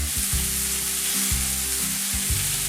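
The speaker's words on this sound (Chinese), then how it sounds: "下锅先煎出香味儿" Pieces of beef short rib cut at the bone joints sear in a pan with a loud, dense, continuous sizzle, close by and with no talk.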